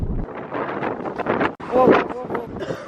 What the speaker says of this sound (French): Le vent c'est un truc de ouf.